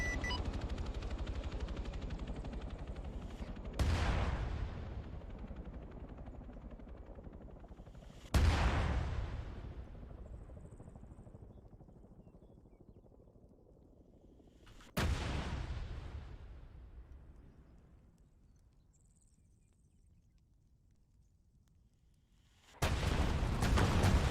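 Hellfire missiles launching and exploding in a military simulation game, heard as four loud, sharp booms spaced several seconds apart, each followed by a long fading rumble, with no talk over them.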